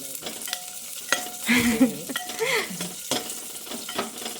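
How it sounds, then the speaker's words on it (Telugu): Curry leaves frying in a home-cooking pan, crackling and sizzling close up in a few short bursts, with stirring scrapes between them and a quiet background. "చక్కగా వేగనివ్వాలండి"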